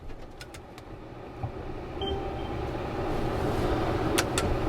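Camper van crawling off-road in four-wheel-drive low range on a steep pass, a steady low engine and drivetrain rumble with faint rattles, continuous and moderately close, no talking.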